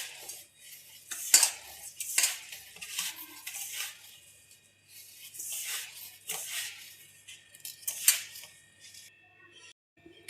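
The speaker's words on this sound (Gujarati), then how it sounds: "બધું હાથેથી સરસ રીતે બધું મિક્સ કરી લેશું" Gulab jamun dough being mixed by hand in a bowl with semolina, milk powder and a spoonful of maida, giving soft irregular scraping and clinking sounds of utensil against the bowl, close and moderately quiet with no talk.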